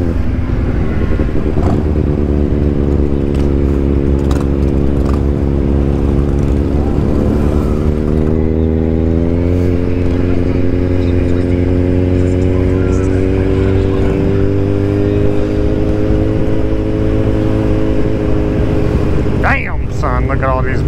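Motorcycles ride and rev through Laconia Bike Week at Weirs Beach, a loud, close engine drone that rises steadily in pitch as one accelerates, with other bikes rumbling around it and a person talking.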